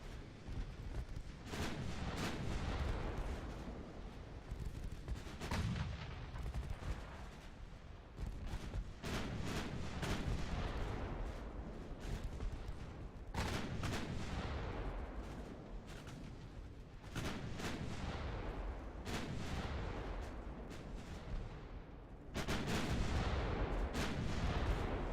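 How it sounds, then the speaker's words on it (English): Warship secondary guns firing on transports in the naval game Ultimate Admiral Dreadnoughts: dense, sustained rumbling gunfire with repeated booming blasts, loud and continuous, with no talk. "Secondaries are engaging the transports effectively."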